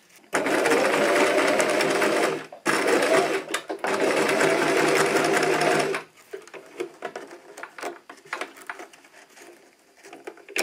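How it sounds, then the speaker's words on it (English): A sewing machine runs in two loud, fast bursts of stitching as thin elastic is sewn for a scrunchie, with a brief pause between, followed by quieter handling clicks and rustles. "But even with my thin elastic, I still stitch this."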